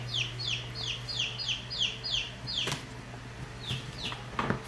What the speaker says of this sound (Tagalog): Yan, meron tayong bagong pisa